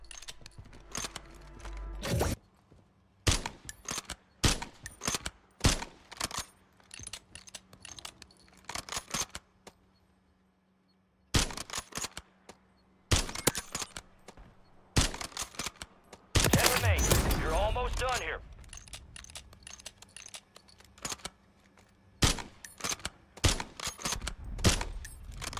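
Rapid bursts of sniper fire from a Kar98k in Warzone: sharp cracks arrive in irregular clusters with short gaps, and one longer noisy blast partway through, all close and loud.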